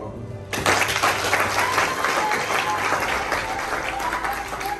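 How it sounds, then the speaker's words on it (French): Applause from a gathered audience at a public event in Kimpese, Kongo-Central, breaking out suddenly after a brief pause and continuing strongly and evenly for several seconds, with crowd voices mixed in. "nous avons le droit de l'applaudir"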